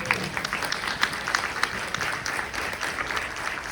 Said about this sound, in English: Yes, please clap for the words of Ms. Chisholm